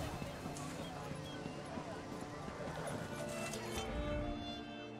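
Horse hooves galloping in the Elder Scrolls Online game, a steady quick clip-clop rhythm over five seconds, fairly faint, with game ambience and possible voices underneath.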